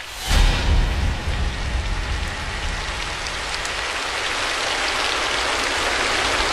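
Heavy rain falls steadily as a dense, loud hiss, opening with a low rumble of thunder that fades into constant downpour.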